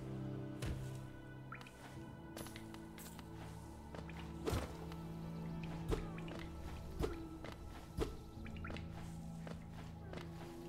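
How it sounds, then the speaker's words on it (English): Water drips in a cave in the video game Hollow Knight, with soft, sharp single drops falling at irregular intervals of about a second over a faint, steady ambient hum. "It's dripping."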